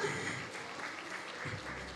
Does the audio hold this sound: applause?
yes